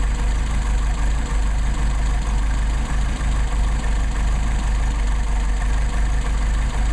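A Mercedes 190SL with Solex 44PHH carburetors idles steadily, a close, even, low engine rumble with faint regular pulses and no voices over it.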